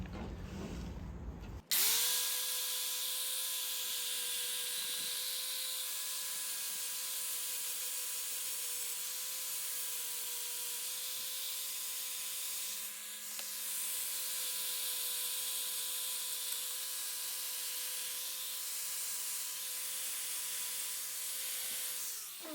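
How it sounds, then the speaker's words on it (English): A wire buff on a power tool spins up and runs steadily for about twenty seconds on welded aluminium car parts, a loud continuous whine with a bright hissing scrub. "to clean these up, I'm just going to use a wire buff."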